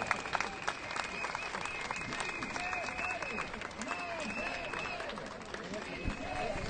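Crowd applause at a street demonstration in Murcia for dignified pensions, greeting the pensioners' platforms; steady, dense clapping from many people outdoors, with voices and whistles mixed in throughout.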